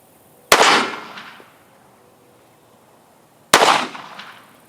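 Two sharp, loud gunshots fired at late medieval plate armor, spaced about three seconds apart, each a sudden crack with a bright ringing metallic decay trailing off, with quiet between.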